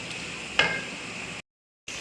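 Garlic and ginger frying in a pan, a steady soft sizzle with one sharp clink of a utensil against the pan partway through, then a brief cut to silence before the sizzle returns.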